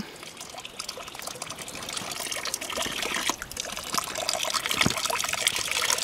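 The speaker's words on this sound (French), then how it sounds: "Il y a une petite fontaine aussi, bien sympathique." Water trickles and splashes from a small stone fountain on a mountain path, a soft continuous burble up close that grows slightly louder toward the end, with no voices.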